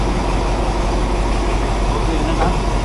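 A train on the Death Railway in Kanchanaburi, Thailand, gives off a steady, dense rumble heard from close by, an even roar that holds without breaks for the whole stretch.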